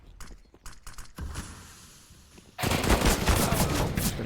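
AK-47 fire in Counter-Strike: a few spaced single shots, a quieter stretch, then a loud sustained automatic burst running to the end.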